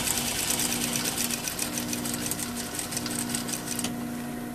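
A sewing machine stitches a double welt pocket bag, running steadily with a fast, even rhythmic whir of needle strokes close up. The machine slows and stops near the end, and no one talks.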